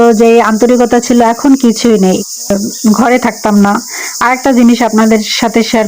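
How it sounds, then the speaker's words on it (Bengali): Crickets chirp in a continuous high, shrill drone at dusk, heard under a person talking loudly and steadily nearby. "প্রচুর ঝিঝি পোকার ডাক।"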